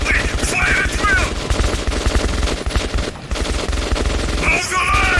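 Rapid gunfire in the first-person shooter Metro 2033, played in VR, with dense bursts of automatic fire and overlapping shots that stay loud and continuous throughout, mixed with game noise.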